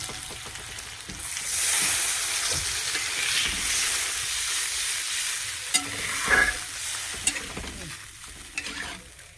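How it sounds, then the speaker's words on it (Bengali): Water poured into a pan of frying tomato and mango curry, a loud hissing sizzle that swells then settles into bubbling and stirring scrapes, with a few sharp clinks toward the end. "জল দিয়ে দিচ্ছি এবার"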